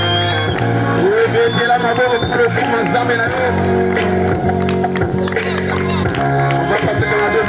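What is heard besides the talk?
gospel concert crowd cheering and clapping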